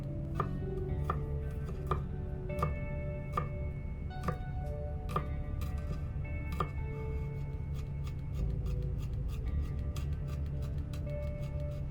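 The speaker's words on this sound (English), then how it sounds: "we're going to crush and chop 2 garlic cloves" A knife chops two crushed garlic cloves on a cutting board in a home kitchen, sharp regular taps falling about twice a second over a low steady background hum.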